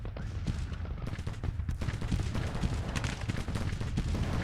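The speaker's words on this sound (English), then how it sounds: "Taking some artillery fire." Artillery fire in the Civil War strategy game Grand Tactician, a dense, continuous barrage of overlapping booms and cracks with a rumbling low end, steady and loud throughout.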